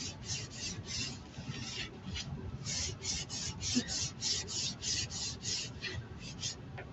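Chalkateur surface wax being buffed into a distressed painted surface, a quick series of soft rhythmic rubbing strokes, close and fairly quiet, with short pauses between bursts.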